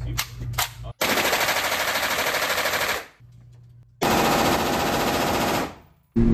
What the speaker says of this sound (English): It was my first time firing a fully automatic weapon. We shot the MP5 and the AR-15.